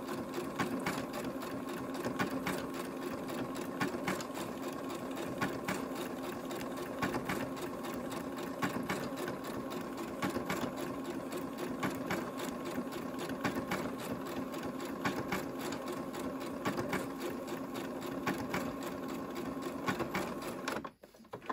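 A sewing machine runs steadily, stitching a zigzag seam on straight-laid fabric with a specialty presser foot, a continuous close mechanical whir with rapid needle ticks that stops abruptly at the end.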